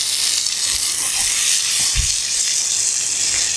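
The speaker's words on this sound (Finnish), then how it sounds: "kasvikset on mukavasti tuosta jo vähän nöyrtyneet, niin heitetään ne tästä pannulta syrjään ja ruvetaan sitten paistapuuhiin" Vegetables sizzle in a frying pan for chicken with chickpea rice, a steady loud hiss running throughout with a few soft thumps and scrapes of stirring.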